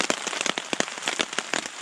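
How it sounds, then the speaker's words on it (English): Rain falls during a solo canoe trip down the Jordan River, close, irregular pattering and crackling taps on a surface in quick succession, with no talking. "It's not a lot of fun to pack up and start traveling in the rain"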